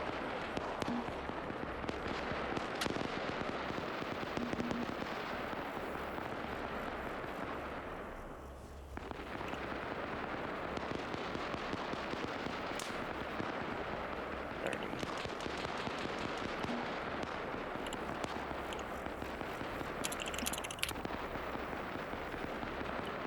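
Artillery fire support barrage in a trench warfare video game, dense rapid crackling bursts and booms rolling continuously for over twenty seconds, with a brief lull near the middle.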